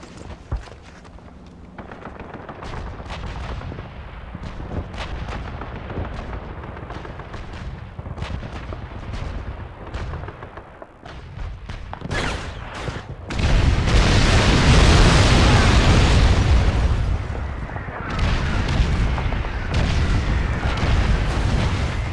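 An artillery barrage in Call of Duty 2 strikes an enemy convoy: a long run of loud, close gunfire cracks builds into sustained heavy explosions and rumbling blasts that fill the final stretch.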